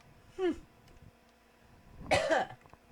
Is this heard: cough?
yes